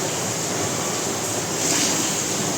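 Floodwater flows during the Mumbai rains as a constant, broad rushing wash, rising slightly toward the end. No one speaks over it.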